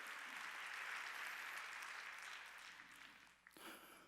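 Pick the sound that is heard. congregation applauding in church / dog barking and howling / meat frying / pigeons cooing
congregation applauding in church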